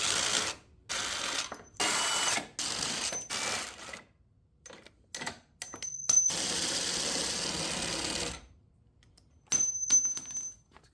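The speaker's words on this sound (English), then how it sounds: "So what I'm going to do is just loosen them up with the ratchet." A ratchet loosens the front bumper bolts on a Ford Bronco, several runs of rapid clicking broken by short pauses, close and moderately loud, with no one talking.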